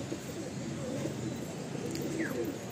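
A male pigeon cooing close by, a low continuous murmuring coo over faint background noise.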